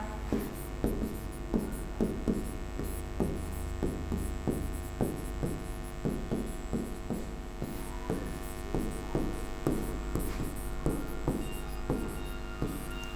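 Pen or chalk writing by hand in steady rhythmic strokes, close and fairly soft, over a constant electrical hum with no talking.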